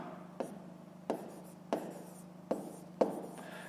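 Pen or pencil writing on paper in a quiet room, a series of five short, distinct scratchy strokes spaced about half a second apart.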